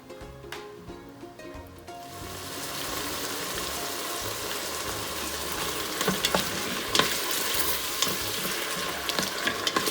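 Mutton curry cooking in an Instant Pot with ginger garlic paste, a steady close sizzle and bubbling frying sound that grows louder after a short quieter start, with scattered crackles and pops.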